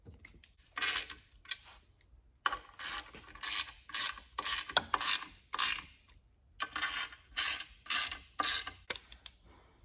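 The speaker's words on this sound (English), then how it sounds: "So we just take our time to work our way around the bolts until the pressure plate is almost tightened" A ratchet clicks in quick bursts while tightening the pressure plate bolts around a clutch on a third-generation Honda Prelude engine, each run of sharp, close metallic pawl clicks separated by short pauses, with no talking.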